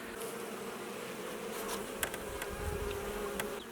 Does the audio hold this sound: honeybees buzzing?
yes